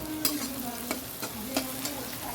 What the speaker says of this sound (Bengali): তাহলে পেঁয়াজটা ভাজা হয়ে গেছে